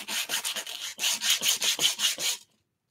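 Rhythmic rasping strokes of a wood piece rubbed back and forth against a flat sanding disc, about a dozen even passes, close and steady, then stopping.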